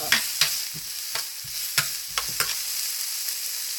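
Taco filling with peppers is sautéed in a pan on rising heat, a steady soft sizzle punctuated by about a dozen sharp scraping stirs of the utensil against the pan at irregular intervals, close and clear.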